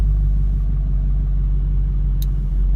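A Ford Mustang engine held on transbrake and two-step, a loud, deep, steady rumble sitting close and constant for the whole stretch with no breaks and no talking.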